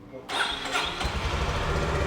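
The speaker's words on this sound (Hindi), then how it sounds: "सिंगल अटेम्प्ट में ये बाइक स्टार्ट हो गई।" A Honda CB350C motorcycle engine starts on the first try and fires into a loud, throaty idle with a steady exhaust note. A voice speaks over it at the start.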